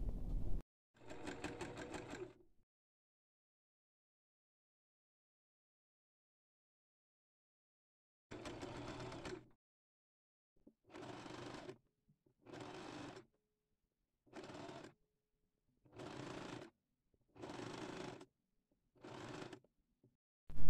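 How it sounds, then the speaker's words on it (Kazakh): A sewing machine stitches along both edges of a decorative round pillow, running in one longer burst, a second burst, then a string of short, evenly spaced runs separated by silence, with no talking. "Енді екі жақ шетini де тігіп аламыз."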